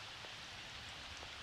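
Steady, soft rainfall from a cottage-life video game, a faint, even hiss of drops pattering on surfaces that continues without a break, with no voices.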